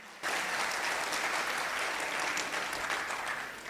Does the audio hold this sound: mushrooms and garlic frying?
no